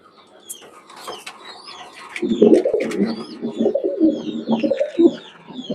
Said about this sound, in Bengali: এছাড়াও আমার কাছে আছে সচন্দন কবুতর